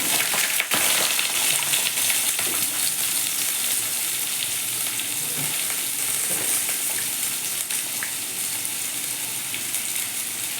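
Potatoes frying in a mix of mustard oil and white oil, with dried red chillies and black cumin, make a loud, steady, crackling sizzle close by, with occasional stirring and no voices.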